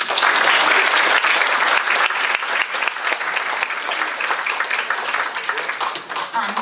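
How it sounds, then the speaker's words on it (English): An audience at a poetry festival breaks into loud, dense applause that starts at full strength and slowly thins toward the end, with a few voices mixed into the clapping. "Now we can clap."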